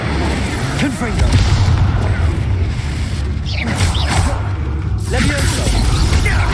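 Confringo fire-blast spell exploding in a Harry Potter video game, a run of heavy booms and crashing impacts laid over steady low rumble, loud and close, with voices calling out.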